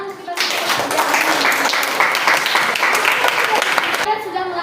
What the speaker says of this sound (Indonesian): Baru tepuk tangan kita